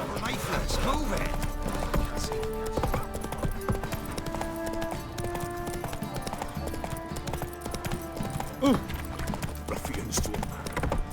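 Roach, Geralt's horse in The Witcher 3, gallops with steady clip-clop hoofbeats under game music, with a brief whinny and a gruff spoken line over the top.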